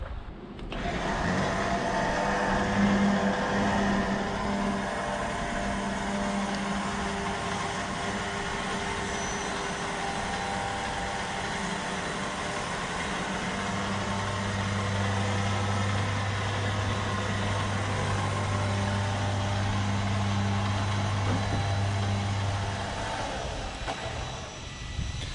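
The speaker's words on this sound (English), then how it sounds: "I'm gonna pull the truck ahead a little bit." A 1957 Monarch truck engine runs steadily throughout, a loud continuous mechanical drone with a deeper hum swelling in the latter half as the vehicle creeps forward, no talk over it.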